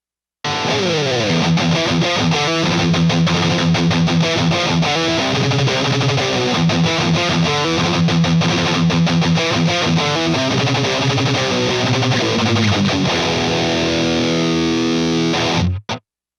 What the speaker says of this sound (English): Let's go ahead and add an overdrive pedal to the front end.